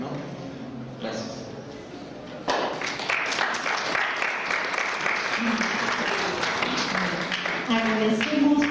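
Audience applause at the close of a lecture on César Moro; it swells after a quieter start into sustained loud clapping from a room full of people, with a voice speaking over it.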